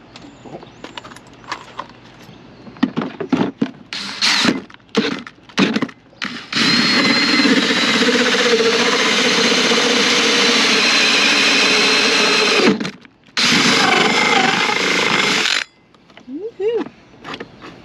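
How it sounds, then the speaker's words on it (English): A power drill whirs loudly in sustained bursts, drilling a hole outdoors for a Starlink setup, with a short pause between two long runs, preceded and followed by brief handling noises and scraping. "now we are going to start drilling a hole here"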